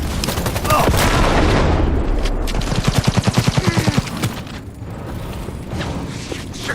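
Gunfire in Cyberpunk 2077, a loud close burst of rapid automatic shots in an even rhythm after a heavy blast, followed by mechanical clatter.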